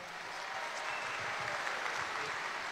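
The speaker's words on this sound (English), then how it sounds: "Big round of applause for Kade" An audience at a football club gathering applauds a player with steady, dense clapping that holds at an even level for the full few seconds.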